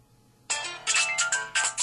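An HTC Sensation phone plays its ringtone for an incoming call, a bright electronic melody that starts abruptly after brief quiet and repeats in short pulsing phrases, loud and close.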